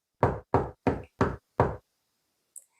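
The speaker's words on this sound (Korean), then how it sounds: "늦은 밤이 되자 노크 소리가 들렸습니다." Five evenly spaced, loud knocks on a door ring out at night, sharp and close, followed by silence and a faint small tap.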